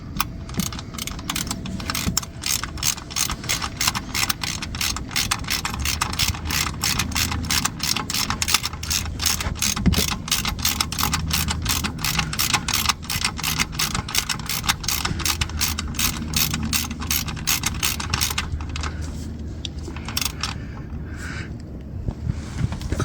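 A ratchet wrench clicks rapidly and evenly while turning a stiff bolt on an Audi A6 3.2 FSI V6 engine, a long run of close metallic ticks that stops near the end.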